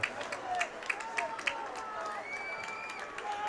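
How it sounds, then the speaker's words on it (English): A high school soccer crowd at a quarterfinal groans and murmurs as a shot goes just wide, a distant rolling reaction under a commentator's ongoing talk. "you could hear the crowd going, whoa"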